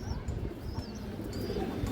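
Pigeons at a loft holding breeds such as army, silver and high-flyer birds, with soft cooing and chirps over a steady rustling background, close and continuous.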